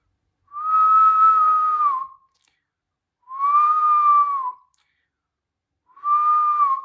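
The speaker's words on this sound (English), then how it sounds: "That really allows you to get that high pitch sound when you whistle" Loud, high, steady whistling made with the bottom lip pushed slightly back, sounded in three sustained notes of about a second and a half each, separated by short silences, with no talk.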